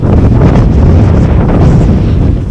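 Strong wind blasting across the open Yorkshire moors, a loud, continuous roaring buffet battering the microphone for the whole stretch with no letup and no voices.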